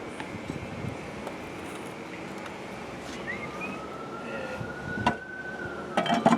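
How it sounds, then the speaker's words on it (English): An ambulance siren wails at a distance, a faint rising and falling tone sliding over low outdoor rumble and wind, with a few closer knocks and handling noises near the end. "Oh, I hear the meat wagon."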